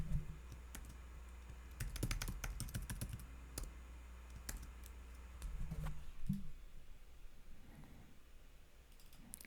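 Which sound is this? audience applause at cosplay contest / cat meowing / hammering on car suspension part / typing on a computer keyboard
typing on a computer keyboard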